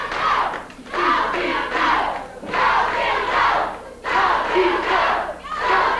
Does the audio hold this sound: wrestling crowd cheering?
yes